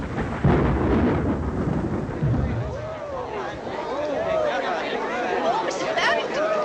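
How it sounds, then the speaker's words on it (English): Rolling thunder and steady rain in an old 1941 British film scene. Low rumbles build and recur over a continuous rain hiss, with voices chattering faintly underneath. "it's raining."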